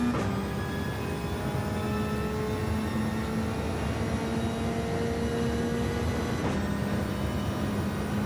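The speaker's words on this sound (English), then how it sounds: "You hear that turbo go." Car engine with turbo spooling in Gran Turismo 7 during a daily race, a steady high whine rising over a loud constant engine drone, with a brief shift transient near the end.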